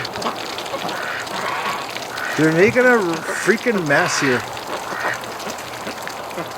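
Ducks, including a Muscovy, quack in a lively run of harsh, rising calls while dabbling in wet winter mud, close by amid soft splashing, with someone talking over them.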